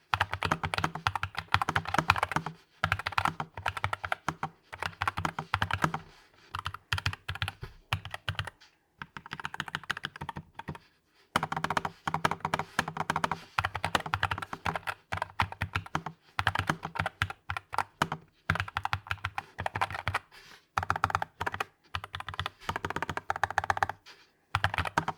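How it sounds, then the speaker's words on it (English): Steady, fast typing on a NuPhy Air60 V2 low-profile mechanical keyboard with light linear switches, soft clacky keystrokes in quick bursts with brief pauses, close up and without voices. "very quick sound test of this keyboard with the typing"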